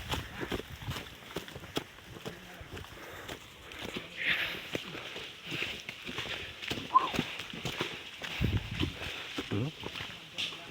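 Scattered hoof thuds from water buffaloes walking, irregular and fairly close, with people talking and calling out over them.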